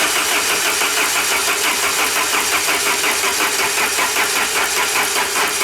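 A 1994 Saab 9000 engine with a suspected fuel fault cranks steadily on the starter without catching, a loud, continuous, rhythmic churning that runs unbroken from start to finish.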